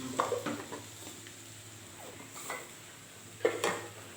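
Ingredients for jeera pot pulav sauté in a pan, with a soft steady sizzle broken by a few sharp metallic clinks and scrapes of a spoon, near and fairly quiet, with no talking.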